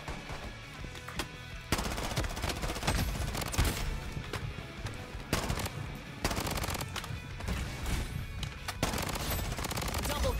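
Sustained automatic gunfire in the Bloodstrike shooter game, loud bursts of machine-gun fire rattling almost continuously with brief lulls, a fusillade of close shots.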